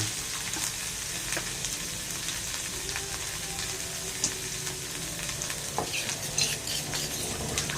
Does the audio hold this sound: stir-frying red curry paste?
yes